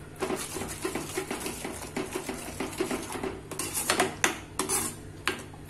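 A spoon stirs and scrapes garam masala and coriander powder in a pan for a kadai paneer curry, with repeated metallic clinks and scraping strokes in an uneven rhythm, close and moderately loud, with a steady low hum underneath.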